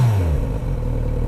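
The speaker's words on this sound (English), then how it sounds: "That's a pretty cool sounding exhaust." Loud and close, the stock exhaust of a 2018 Kawasaki Z900RS motorcycle rumbles in a steady, deep engine drone that ends with a sudden thump.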